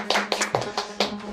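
A small group in a furniture design and woodworking drawing class claps for a guest teacher, a short burst of a few sharp, close hand claps with uneven rhythm, and a voice is briefly heard among them.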